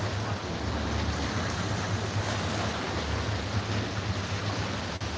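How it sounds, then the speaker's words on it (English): Indian Ocean waves rushing onto the shore in Kenya, a constant loud wash of surf with a steady low rumble and wind buffeting the microphone, no voices heard. "So this water is coming to the shores so fast."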